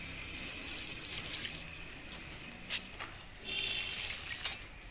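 Water poured a little at a time onto dried-out plants makes splashing gushes in a few separate bursts, with a longer pour near the end and quieter gaps in between.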